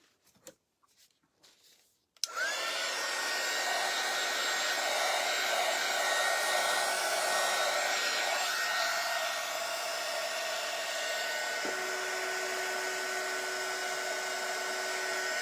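Hair dryer switching on after a few faint knocks and running as a loud, steady whine while drying painted styrofoam watermelon decor, with a slight shift in pitch partway through.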